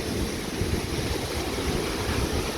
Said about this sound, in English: Vernal Falls footbridge here over the Merced River.